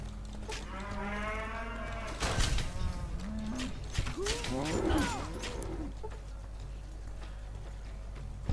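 A cow in the video game Fallout: New Vegas moos, two drawn-out lowing calls over a quiet game background with faint ticking sounds.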